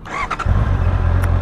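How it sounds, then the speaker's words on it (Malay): A 2025 Honda CBR650R E-Clutch motorcycle engine starting: a short starter whirr and squeal, then the inline-four catches and settles into a steady, loud, close idle rumble. "Alright, enjin pun dah hidup."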